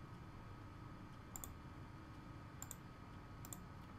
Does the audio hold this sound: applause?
no